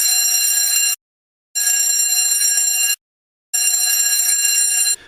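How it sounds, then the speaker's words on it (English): An electronic fire alarm bell rings in three loud bursts of about a second and a half each, separated by short silences, in an intermittent pattern. "the compartment in which the fire is situated will sound a continuous fire alarm"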